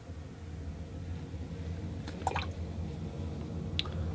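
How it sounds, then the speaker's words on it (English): A watercolor brush is rinsed in water, giving a few soft squishy drips and splashes over a low steady background hum, with no talking. "I rinse off my brush"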